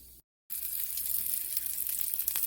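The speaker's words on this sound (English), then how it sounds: "then we will drop the sausages in" Sausages sizzling after being dropped into a frying pan with vegetables just removed, a steady hiss that starts abruptly after a brief silence and keeps going, soft and even, no talking.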